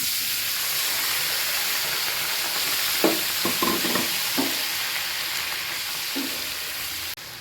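Boiled vegetables frying in a pan for a broccoli salad give a steady close sizzle and hiss, with a brief cluster of stirring clatters in the middle before it settles back to even frying.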